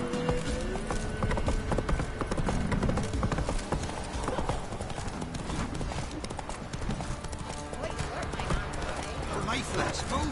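Hooves of Roach, the horse in The Witcher 3, clip-clop continuously beneath a thick bed of game music and ambient noise, steady and moderately loud, with voices talking over it.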